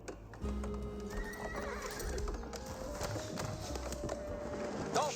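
Horsemen in the Age of Empires 4 real-time strategy game neigh and whinny loudly while hooves clip-clop at a gallop, with several whinnies near the end.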